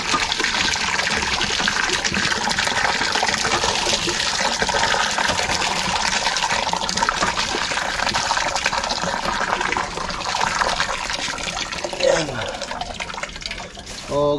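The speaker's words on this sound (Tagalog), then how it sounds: "kukuha muna tayo ng tubig dito sa poso" Water drawn from a hand pump beside a hut pours and splashes continuously and loudly, with small shifts in flow and a brief gurgle toward the end.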